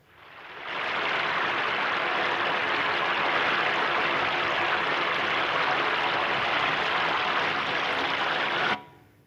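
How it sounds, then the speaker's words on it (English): AI-generated soundscape of a waterfall in Thailand: a dense, steady rush of falling water that fades in quickly, holds evenly, and cuts off abruptly. "if I want to hear a waterfall in Thailand,"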